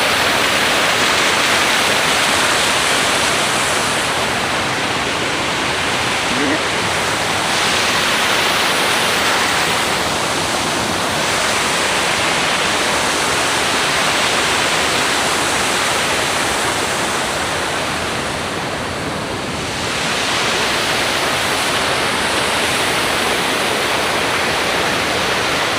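Muddy, chocolate-brown water pours steadily down from an irrigation dam in Cavite, a dense continuous roar of rushing flow that stays loud and even throughout with no talk.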